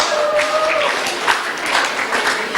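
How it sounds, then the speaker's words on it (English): A school audience of Year 12 students and parents applauds continuously, the dense clapping steady and fairly loud throughout. "Give yourself a round of applause."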